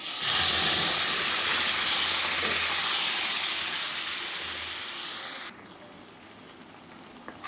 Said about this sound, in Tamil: ரெண்டு வத்தல் பொடி இப்போது அரைச்சி வச்சதை அதில் ஊற்றிடலாம்